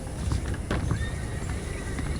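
Horses in the game Red Dead Redemption, hooves clip-clopping in quick uneven steps with a whinnying neigh rising over them, close and fairly loud.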